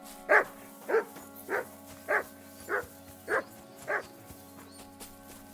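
The dog Mutt in Kingdom Come: Deliverance 2 gives seven evenly spaced barks, moderately loud over a low steady game background hum.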